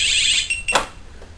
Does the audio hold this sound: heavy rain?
no